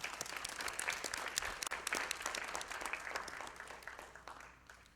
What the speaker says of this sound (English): Applause for Ida.